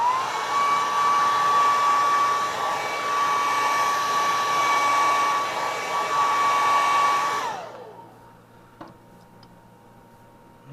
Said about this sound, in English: Hit it with the dryer.